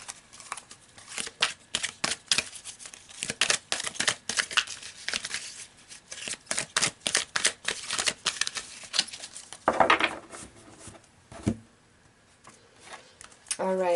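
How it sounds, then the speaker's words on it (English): Tarot cards shuffled and laid out in a run of quick papery riffles and flicks, close and moderately loud, with a brief pause near the end and scattered speech-like sounds mixed in. "So let's pull some more cards."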